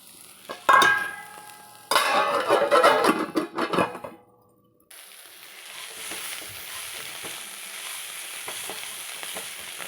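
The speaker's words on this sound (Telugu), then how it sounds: "జాగ్రత్తగా వేయించుకోవాలండి లేకపోతే మాడిపోయే ప్రమాదం ఉంది ఈ పొడిలో అయితే" Spice powder frying with bitter gourd in a pan, loud crackling sizzle and stirring bursts for a few seconds, then a brief hush before a softer, steady sizzle resumes.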